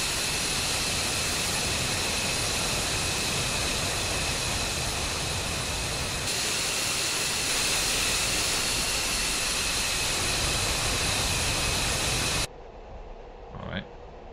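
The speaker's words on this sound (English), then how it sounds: "Our beautiful jet taxiing." Loud, steady F-15E jet engine roar while taxiing in an ultra-realistic flight simulator, with a constant broadband rush and high whine, a brief step up partway through, then cutting to a quieter scene.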